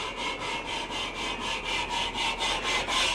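Parts of a 1967 VW engine are being lapped by hand, a close, rhythmic back-and-forth rasping scrape that repeats about every third of a second, steady and moderately loud with no voices.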